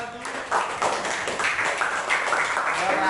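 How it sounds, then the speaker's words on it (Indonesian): Classroom applause for a student group, a brief burst of scattered hand claps from several people, fairly close and lively, with faint voices mixed in. "tepuk tangan dulu untuk kelompok 1"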